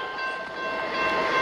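A Union Pacific intermodal freight train with distributed power units moves through the Massingale Road crossing, giving a steady rumble of rolling cars with a sustained horn-like tone, fairly close and continuous with no talk.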